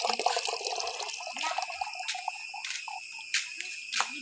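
Water trickles and drips from a small tender coconut, a light liquid patter with a few sharper drops, faint and fairly close, with insect-like chirping in the background.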